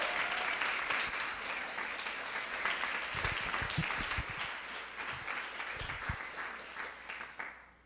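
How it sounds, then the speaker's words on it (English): An audience applauds steadily for a speaker at a CreativeMornings New York morning talk, dense clapping holding for several seconds before tapering off at the end, with faint low voice fragments mixed in. "can we give him another round of applause?"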